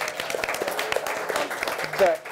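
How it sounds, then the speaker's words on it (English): A small audience at a creative-expression gathering claps briefly, a light patter of hands mixed with overlapping talk and murmurs. "So Let's clap to that."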